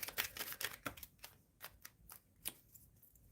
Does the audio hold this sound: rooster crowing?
no